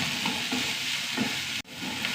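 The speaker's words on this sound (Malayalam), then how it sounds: "ഉള്ളി മൂത്ത് വരട്ടോ" Onions fry in a pan for a curry that also has dried red chillies and green chillies, giving a steady loud sizzle with soft stirring scrapes and one brief sharp break near the end.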